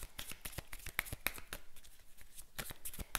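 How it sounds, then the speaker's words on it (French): Angel oracle cards are shuffled and drawn by hand in a quiet room, giving rapid, crisp riffling and flicking slaps in uneven bursts at close range, with no talk. "je tire 3 cartes avec l'oracle angélique"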